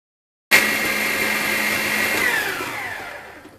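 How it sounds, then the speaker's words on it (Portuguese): A stand mixer fitted with a dough hook kneads French bread dough at low speed, starting abruptly with a loud, steady motor whir that holds for a few seconds before easing off slightly. "a nossa espátula na batedeira e vamos bater essa massa durante 5 minutos em velocidade baixa"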